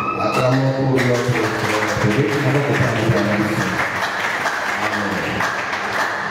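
A church congregation breaks into loud, sustained applause, dense clapping filling the room while voices and a few musical tones carry underneath.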